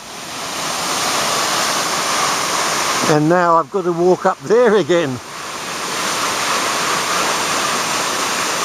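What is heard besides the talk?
Queen Mary Falls waterfall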